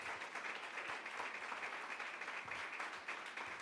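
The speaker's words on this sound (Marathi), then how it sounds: "जरा टाळ्या वाजूयात, प्रभूला धन्यवाद देऊयात" A church congregation claps together during a Sunday sermon, a sustained crowd applause of many hands heard at moderate distance, fairly even in level throughout.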